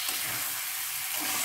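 Cauliflower and egg curry sizzles steadily in a wok over lowered heat while being stirred, a soft continuous frying hiss with faint scraping underneath.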